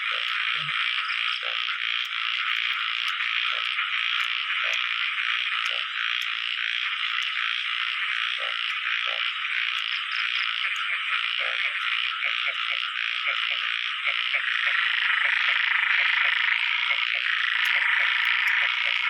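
Many frogs croak in a dense, continuous outdoor chorus after the season's first rain, with steady near and far calls and scattered louder individual croaks over the whole stretch.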